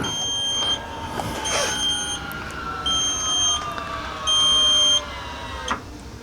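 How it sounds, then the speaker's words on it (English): Beeper on an E-Stopp electric parking brake actuator in a 1970 Ford Maverick, taped over to muffle it, giving several repeated steady electronic tones at moderate volume. "So it has a beeper. I actually taped it over so it's not so loud"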